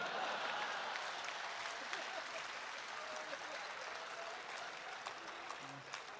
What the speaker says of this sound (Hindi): और ताली तो आप इस बात पर बजाएंगे